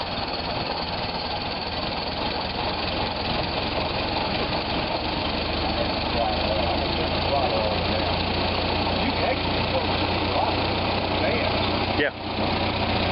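Engine idling after being started with the choke, a steady close mechanical rumble with slight knocking that runs throughout, while people talk over it.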